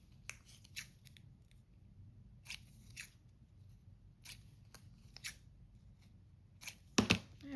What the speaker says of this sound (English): Let's cut the edges off.